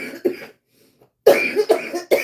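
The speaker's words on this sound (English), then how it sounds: "when I get excited, what I do is cough" A woman gives a couple of sharp, close coughs, goes silent for a moment, then lets out a run of three or four more harsh coughs in quick succession.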